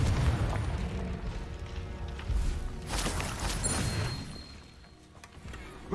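Confringo fire spell cast in the video game Hogwarts Legacy, bursting as a deep booming explosion followed by a second blast, over a continuous bed of game music and effects.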